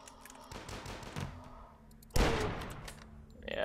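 Rifle gunfire in the retro shooter Dusk, several sharp game shots with rolling reverberant tails, the loudest blast near the end, with no voices.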